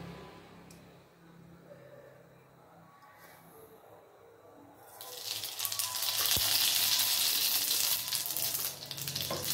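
Mustard seeds, asafoetida and turmeric hit hot oil in a pan for a bottle gourd curry, bursting into a loud, bright sizzle about halfway through after a quiet stretch, then frying on steadily with no talk.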